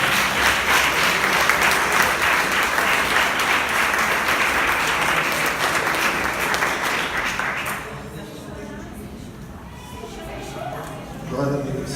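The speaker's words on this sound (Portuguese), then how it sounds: "Aplauda o Senhor" Church congregation applauding during a worship service, a dense, loud wash of clapping that holds steady for about eight seconds before thinning into scattered claps and murmuring voices.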